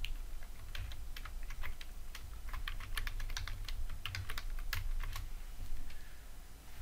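Someone types computer code on a keyboard in soft, irregular bursts of quiet key clicks over a low steady hum, close by, with no talking.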